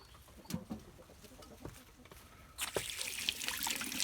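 Chickens cluck and scuffle faintly, with scattered short calls and rustling, then a burst of flapping or scratching noise toward the end.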